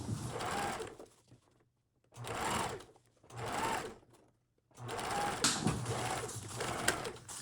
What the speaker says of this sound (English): I'm sewing on just the edge of the twill tape